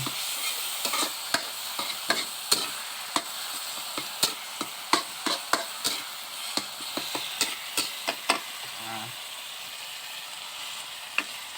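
Lamb stir-fried with red and yellow bell peppers crackles and hisses steadily in a hot pan, punctuated by sharp, regular clacks of a utensil scraping and tossing, with no voices.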